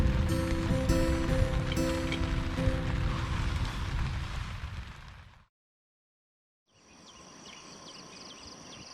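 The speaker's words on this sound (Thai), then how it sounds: "ในค่ำคืนที่ถูกปกคลุมไปด้วยพายุฝน" Heavy rainstorm at night at Khao Nam Sai in the mountains of southern Thailand, a loud steady downpour filling the scene for over five seconds, then a brief silence before softer, more distant rain noise resumes.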